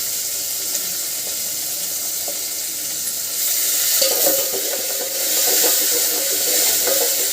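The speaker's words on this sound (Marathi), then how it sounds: "टमाटे पण असे छान परतून घ्यायचे।" Tomatoes sautéing in a pan for masala khichdi give a steady bright sizzle, with occasional stirring scrapes that swell louder partway through, heard alone and close.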